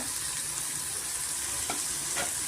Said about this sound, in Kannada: ಇವಾಗ ಮೀಡಿಯಂ ಫ್ಲೇಮಲ್ಲೇ ಸ್ವಲ್ಪ ತರಕಾರಿ ಎಲ್ಲ ಚೆನ್ನಾಗಿ ಫ್ರೈ ಆಗಬೇಕು